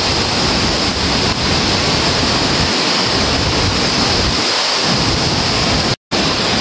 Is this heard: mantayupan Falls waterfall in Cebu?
yes